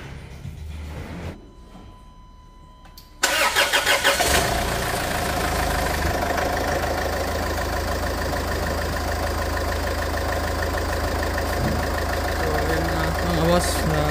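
A Land Rover Freelander 2 engine, just fitted with a new timing belt, cranks briefly and fires up after a quiet moment. It settles into a loud, steady idle up close.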